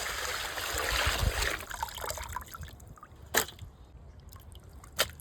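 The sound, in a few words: rinsing goat eyes under running water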